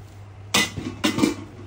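Two thin steel woks and their lids being handled, with one sharp metallic clank followed by a second clatter of rattling clinks, close and brief against a quiet room.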